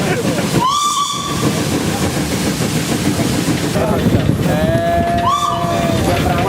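A train rolls through a teak forest in mist, a steady loud rumble of wheels and carriages with two rising whistle blasts, one early and one near the end.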